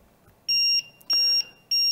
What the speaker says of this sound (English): When it gets down to zero, it will send off an alarm.